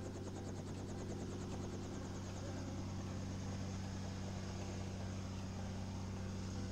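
Helicopter running during a Lake Tahoe scenic tour, a steady droning rotor and turbine hum with a constant low throb, heard from inside the cabin at an even level.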